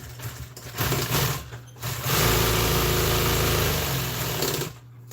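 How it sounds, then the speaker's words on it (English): Sewing machine stitching a custom seat cover for a Polaris, running in a steady, loud, close mechanical whir with rapid needle rhythm, briefly pausing and restarting before stopping. "I'm just gonna sew it right in here."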